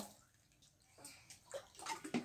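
Water splashes softly in a child's bath, quiet sloshing and small splashes that grow busier and louder toward the end.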